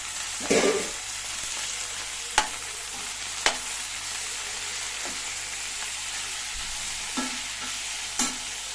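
Mint and coriander fry in masala in a pan, giving a steady soft sizzle, while a spoon stirs and scrapes against the pan in several distinct sharp knocks spread across the stretch, with no voices.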